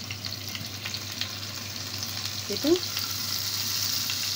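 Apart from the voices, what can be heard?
garlic, pepper and spices frying in oil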